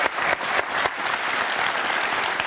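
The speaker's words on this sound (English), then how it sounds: "Give them a round of applause." A TV talk show studio audience applauds steadily, a dense wash of clapping that holds at the same level from start to finish.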